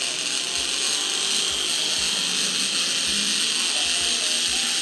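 A Tri-ang R.55 model diesel locomotive with two motors runs backwards while standing still, making a steady, close mechanical whirring and gear rattle with occasional low thumps throughout.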